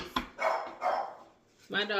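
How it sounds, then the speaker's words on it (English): A dog gives a few short barks close by, mixed in with a person talking. "I'm going to go because my dog"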